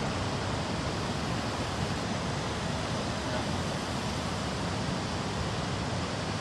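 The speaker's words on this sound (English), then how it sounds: "After the canyon, there's a small waterfall." Small waterfall below a canyon in Iceland, a steady broadband rush of falling water that holds constant and close throughout, with no voices.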